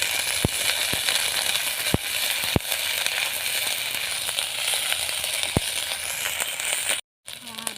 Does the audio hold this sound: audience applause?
no